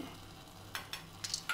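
Cinnamon, cloves and cardamom frying in a little ghee, a faint low sizzle with a few soft stirring scrapes and crackles toward the end, brief and close.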